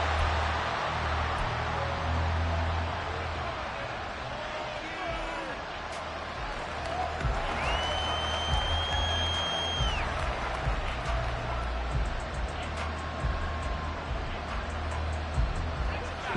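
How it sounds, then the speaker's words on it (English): Stadium crowd noise swells into a steady roar under a commentator's play-by-play during a Commanders vs Jaguars game in Madden NFL, with a whistle-like tone rising through the middle. "This crowd turning up the decibel level."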